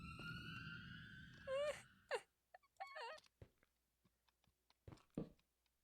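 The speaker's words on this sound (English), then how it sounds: "I hate cave noises, bro." Eerie Minecraft cave ambience from the video game, a faint wailing, moaning tone followed by scattered soft clicks and scrapes echoing in near silence.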